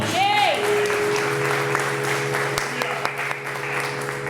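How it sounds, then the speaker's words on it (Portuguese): Church congregation applauding during a worship service, moderate clapping under a sustained tonal drone, with a voice sounding briefly at the start. "Aplauda ao Senhor bem forte"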